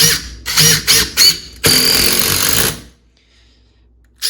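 Makita XDT16 impact driver impacting: several short loud rattling bursts, then a sustained hammering run of about a second, close and then cutting to near silence.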